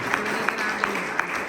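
A church congregation claps in a steady rhythm, with sharp, evenly spaced claps standing out over a background of crowd noise and voices.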